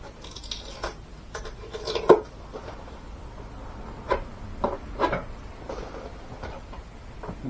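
Snips and cuts into the plastic of an RC Wilga model plane kit while making openings, a scattered series of sharp close clicks and crunches with quiet pauses between them.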